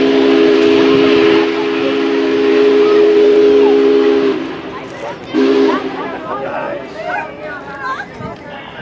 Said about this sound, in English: One of the surviving steam locomotives.